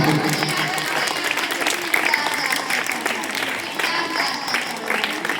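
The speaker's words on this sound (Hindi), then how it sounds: "ताली तो बजाते रहिए भैया" Audience applause at a block-level school debate competition, a steady dense clapping wash that holds loud and continuous throughout, with a voice speaking over it.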